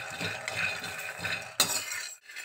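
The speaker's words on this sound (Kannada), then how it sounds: "ಬರೀ ಶೇಂಗಾ ಬೀಜನೇ ಚೆನ್ನಾಗಿ ಹುರ್ಕೊಳ್ಬೇಕು" Peanuts dry-roasted without oil in a pan, stirred with a spoon: a steady scraping, rattling stir with small clinks of utensil on metal, plus a sharp knock near the end.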